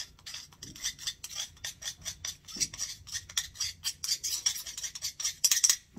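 Zinc and iodine powders ground together with a mortar and pestle, giving a quick, steady series of close gritty scrapes and rubs throughout.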